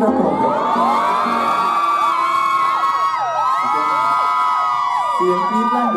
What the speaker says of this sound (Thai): ขอเสียงกรี๊ดดังๆสักหนึ่งครั้งได้ไหมครับผม